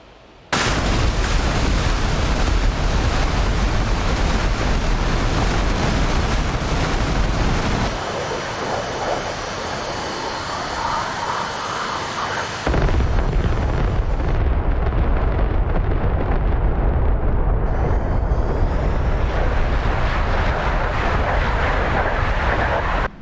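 A long string of unguided bombs dropped from an Su-25T in the DCS World flight simulator detonates in a rumbling carpet of explosions, loud and sustained, easing briefly mid-sequence before booming back, with jet engine noise underneath.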